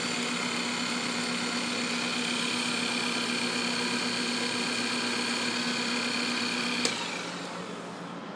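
A belt grinder running steadily while a serration is ground into a knife blade, a loud continuous motor whine with steady tones that drops slightly near the end, close and without talk.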